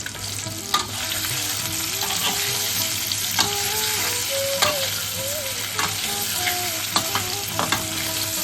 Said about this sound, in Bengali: আগে থেকে সেদ্ধ করে রাখা আলুগুলো ভেজে নুন দিয়ে দিলাম হলুদ দিলাম